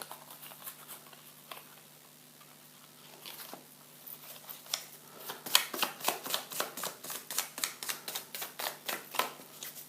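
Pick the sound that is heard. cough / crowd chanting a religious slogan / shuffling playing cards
shuffling playing cards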